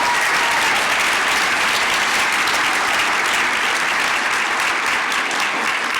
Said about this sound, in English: So if we could get one round of applause for them